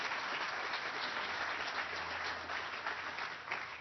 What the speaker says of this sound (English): Let's give these guys a good round of applause.